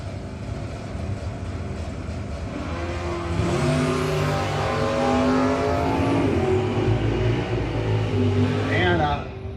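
Drag racing cars at a no-box shootout, an S10 against a fifth-gen car, give a loud continuous engine roar that builds and rises near the end, with talk over it.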